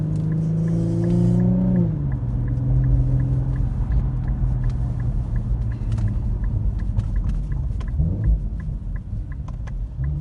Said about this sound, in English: those downshifts are just absolutely satisfying